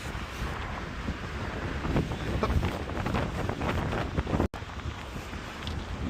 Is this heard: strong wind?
yes